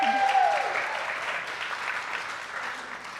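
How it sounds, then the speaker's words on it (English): A church congregation applauds the band during a Sunday service, a broad wash of clapping that starts strong, with a brief tone audible at the beginning, then gradually tapers. "Give them a round of applause."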